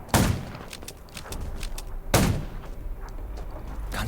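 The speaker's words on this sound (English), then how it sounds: "Gunshots will attract more." Gunshots in the zombie video game Undawn: two sharp, loud blasts about two seconds apart, each followed by a short echoing tail and scattered smaller cracks.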